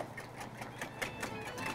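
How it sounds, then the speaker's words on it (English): Egg yolks whisked over a double boiler into a sweet, fluffy custard, a steady rapid scraping and clicking of the whisk against the bowl, close and continuous. "So go ahead and just keep whisking this."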